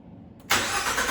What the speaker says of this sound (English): We're gonna start the car now.